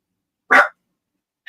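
Biscuit the dog lets out a single sharp bark close by, then a shorter, fainter yip follows about a second later in an otherwise quiet room.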